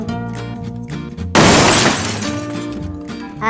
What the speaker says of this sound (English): James had crashed into Thomas.